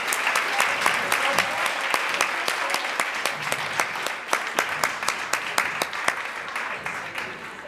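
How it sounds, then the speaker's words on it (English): Audience applause for a law review symposium panel on social justice and wrongful conviction fills the hall, dense steady clapping with some sharper individual claps standing out, sustained throughout at moderate level. "Please give a warm round of applause to the wonderful panel that we have."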